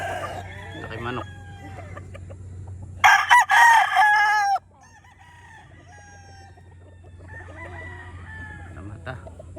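A gamefowl rooster crows loudly and close by in a single bright call lasting about a second and a half, with fainter bird calls and clucks before and after over a steady low hum.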